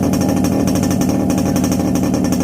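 A restored Yamaha RX100 two-stroke motorcycle engine running on its first start after 25 years, a loud, rapid, hammering rattle that pulses evenly throughout, close up and alone.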